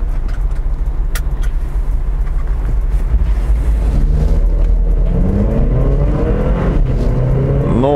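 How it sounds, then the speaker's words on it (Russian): Haval F7 SUV in sport mode pulling away hard from a traffic light, its engine note rising steadily as it accelerates, loud and continuous from inside the cabin with no talk. "Попробуем сейчас стартануть со светофора, как это все дело поедет."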